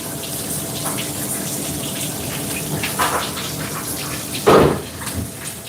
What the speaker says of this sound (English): this is why we're running it under some cold water right now.